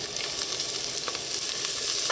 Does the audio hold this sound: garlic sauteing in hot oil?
yes